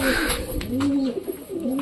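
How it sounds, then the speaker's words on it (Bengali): Pet pigeons cooing indoors, a close, continuous run of soft, low rolling coos with a slight rise and fall, heard alone without talk. "তো আমাদের চুচু ডাকাডাকি করছে বিউটিফুল ভাবে"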